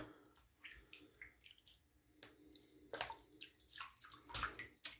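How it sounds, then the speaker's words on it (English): Shaving gear is rinsed under a running tap, giving uneven splashing and trickling water close by, with a few sharper splashes near the end. "I'm going to rinse this off real quick."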